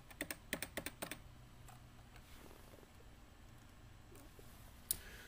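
Typing on a Cooler Master Novatouch TKL keyboard with Topre switches: a quick burst of soft, muted keystrokes at the start, then a quiet stretch with a single faint click later, close up and low in level.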